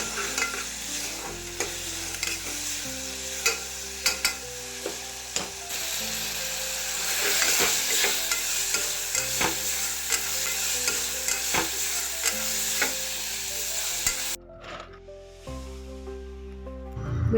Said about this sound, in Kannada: ಇವಾಗೆಲ್ಲ ನಾನು ಒಗ್ಗರಣೆ ಮಾಡ್ಕೊಳ್ತಾ ಇದ್ದೀನಿ